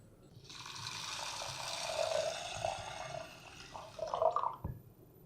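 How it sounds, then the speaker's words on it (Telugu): Water is poured into a bowl of washed horse gram and green gram, giving a steady soft splashing rush that swells and fades over a few seconds, fairly quiet with no talking. "సో కడుక్కున్న తర్వాత అందులోకి నీళ్లు పోసుకోవాలి"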